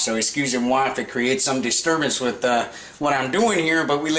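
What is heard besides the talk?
None of the usual background noises is heard.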